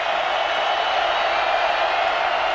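Stadium crowd of 65,000 at a college football game, Washington Huskies at BYU Cougars, sending up a steady, loud, continuous roar of cheering that holds evenly throughout without breaks.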